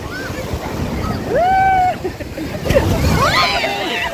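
Strong sea waves surge and break along a beach in Gangwon-do in summer, a steady rushing wash of surf with wind noise, while people's voices and cries rise over it up close.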